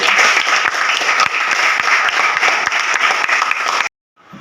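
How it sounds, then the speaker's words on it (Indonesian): A class of schoolchildren claps together in a dense, steady round of applause that cuts off abruptly near the end, close and loud. "Iya, tepuk tangan, bagus sekali."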